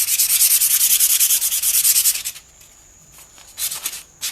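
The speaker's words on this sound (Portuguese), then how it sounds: "vou lixar isso aqui pra poder colar" Close, rhythmic hand sanding strokes rasp across the MDF of a vintage drawer unit for about two seconds, then pause before a few more strokes resume.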